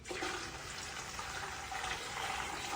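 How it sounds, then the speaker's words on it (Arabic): Water poured into a pot of fried onions with cumin and coriander for Saudi saliq, a continuous rushing splash at moderate level lasting a few seconds with no talk. "نضيف ماء."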